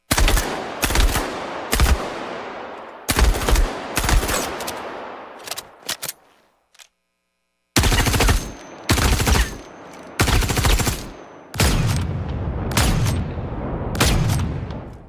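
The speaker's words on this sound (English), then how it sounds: "let's listen to some of our weapon sounds in action." Weapon fire from the video game Star Citizen: loud, close bursts of rapid gunfire and heavy single shots in clustered volleys, broken by a brief silent gap, with booming low-end impacts and no talking.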